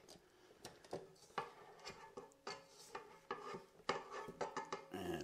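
A spatula scrapes down the sides of a mixer bowl of cookie dough, making a series of soft, irregular scrapes and light knocks against the bowl, close and quiet.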